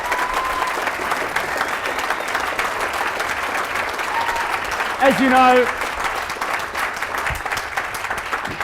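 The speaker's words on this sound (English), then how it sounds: "Give him a big round of applause." Sustained audience applause at a Sydney Writers' Festival talk, loud and continuous throughout while someone speaks briefly over it.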